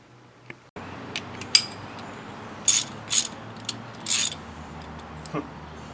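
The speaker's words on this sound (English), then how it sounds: "Hand tools. They always work." Hand tools work on the brakes of a 2000 Dodge Dakota, giving a few sharp ratcheting clicks and short metallic clatters spaced a second or so apart, fairly close and moderately loud against a quiet background.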